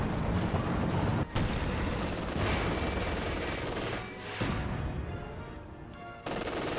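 Artillery and gunfire in a Company of Heroes-style multiplayer match as pack howitzer shells strike a bunker, with dense continuous battle noise, sharp booms and a few brief gaps.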